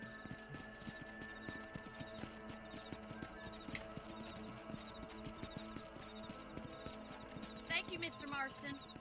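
Clip-clop of horse hooves in the video game Red Dead Redemption, a steady near trot of hoofbeats with a horse whinnying, under frequent talk from voices.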